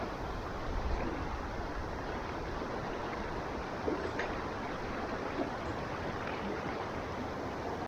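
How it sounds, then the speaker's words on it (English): Pole Creek in Wyoming's Wind River Range, Bridger Wilderness, rushes steadily and loudly close by during a wet-foot wading crossing, with a few faint splashes over the continuous water noise. "I've got a wet foot crossing to tackle here on Pole Creek"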